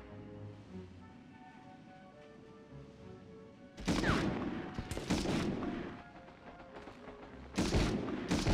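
Loud gunfire bursts from Medal of Honor combat erupt after a quiet stretch of ambient hum, several sharp broadband shots clustered together, then a final burst near the end.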